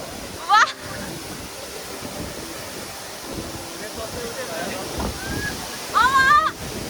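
Steady rushing water of the Mohini Jharna waterfall in Makwanpur, Nepal, a continuous broadband roar near at hand, with brief voices and exclamations breaking in at the start and end.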